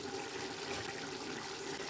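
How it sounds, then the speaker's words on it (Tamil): Ten measures of water pour steadily into a cooking pot for chicken dum biryani, a continuous close splashing rush with no talking. "10 ஆளாக்கு தண்ணி இதில் ஊற்றிருக்கேன்."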